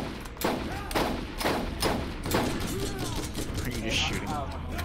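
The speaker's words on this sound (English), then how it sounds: "Are you just shooting on all guns?" Rapid gunfire bursts in the Borderlands video game, several close, loud volleys repeating about every half second to second amid game noise, with voices talking over the shooting.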